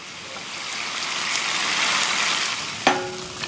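Gyoza fry in a pan after a corn flour and water mixture and a little sesame oil are added, giving a steady close sizzle that rises and falls, then a sharp clatter near the end.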